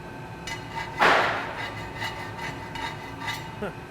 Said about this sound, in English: Here he's drilling the valve hole, or punching the valve hole.